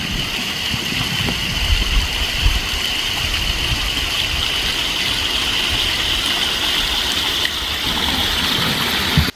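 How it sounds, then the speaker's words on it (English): Pond water from a draining barnyard pond pours over a gravity-fed waterfall into the pond below, a loud, steady rushing splash close by with a continuous hissing wash and no voices. "We got a gravity waterfall here on the pond every time we drain out the barnyard pond."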